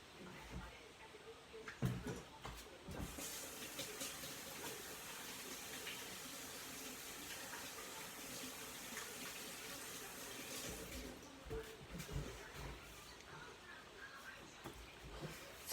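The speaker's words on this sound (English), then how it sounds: "Wash my hands again from touching all that yolk." Hands being washed under a running kitchen tap while baking blueberry muffins, with egg yolk rinsed off. A steady, quiet hiss of flowing water runs throughout, with a few soft splashes and knocks.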